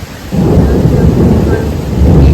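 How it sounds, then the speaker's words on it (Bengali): A loud, continuous rumble of thunder rolls over steady heavy rain in a storm, the roar swelling after a brief quieter start and staying strong throughout. "বিশাল বৃষ্টি হচ্ছে, ঝড়ও হচ্ছে ওরকম"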